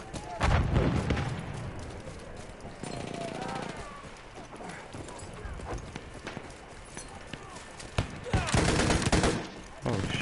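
Ribeyrolles rifle fire in the video game Battlefield 1, bursts of rapid shots among other battlefield gunfire and clattering, loud at the start and near the end, with a player talking over parts of it.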